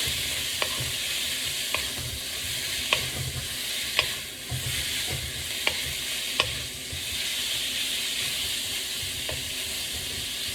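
Meat for pepper steak fries in a small batch in a hot pan. It gives a steady close sizzle, punctuated every second or so by sharp clicks of a utensil stirring against the pan, with no voices.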